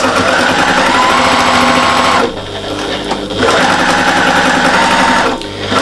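A sewing machine stitches rows on a patchwork and appliqué cushion, running loud and continuous with a short slowdown midway and a brief pause near the end.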